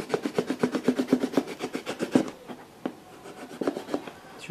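A plastic fabric softener bottle is cut by hand, giving close, rhythmic rasping strokes that run quickly at first, then slow into sparser scrapes. No one speaks.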